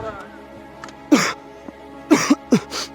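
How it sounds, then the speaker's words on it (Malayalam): Several short, harsh coughs or throat-clearing bursts on a snowy winter mountain trek, close by, one alone and then a quick cluster of three or four near the end. "ചുമയൊക്കെ തുടങ്ങിയിട്ടുണ്ട്"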